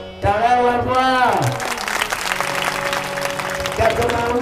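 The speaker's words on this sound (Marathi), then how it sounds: "टाळ्या वाजवा।" An audience claps at a village devotional gathering marking a saint's death anniversary, a broad wash of applause rising after a loud amplified voice and tones open the moment, continuing steadily to the end.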